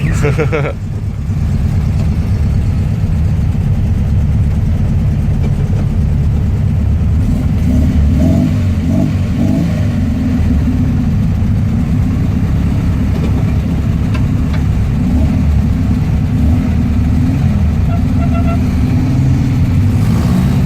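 Volkswagen Beetles in a convoy in South Yorkshire, a steady, loud, low air-cooled idle with occasional light revs as the cars pull away, nearby voices talking over the engines.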